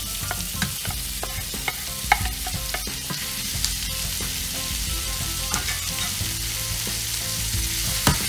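Lumpia filling ingredients sauté in a pan with a continuous close sizzle and frequent stirring scrapes, a couple of sharper utensil knocks standing out, with no voices.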